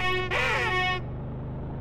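A strange, warbling horn blares from a breakdancing bus in a video game, one sustained harmonic honk lasting about a second, with a brief pitch-bending wobble in the middle, then a low engine rumble continuing alone.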